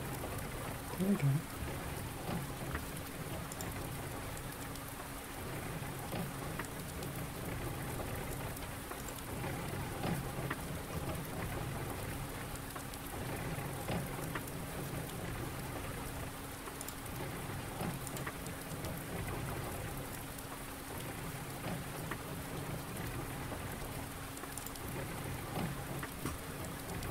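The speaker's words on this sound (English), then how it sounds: "It's even beautiful in the rain." Rain falls in Farming Simulator 19 as a continuous patter of drops with a faint low hum under it, steady throughout, with a voice speaking briefly over it.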